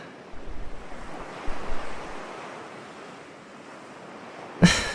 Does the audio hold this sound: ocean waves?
yes